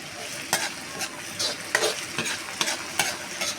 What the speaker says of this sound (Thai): คั่วคั่วไอนี่ก่อนพอประมาณนะครับเครื่องแกงของเราก่อน